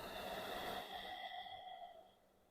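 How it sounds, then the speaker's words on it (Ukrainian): Slow, deep breath during a yoga routine for the back and lower back: a long, soft airy exhale that holds steady and then fades out near the end, close and with no talk. "Продовжуємо глибоке дихання."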